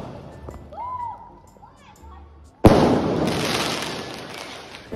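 A Diwali sky shot firework gives a thin rising whistle, then a sudden loud bang at close range that trails into a crackling, hissing burst.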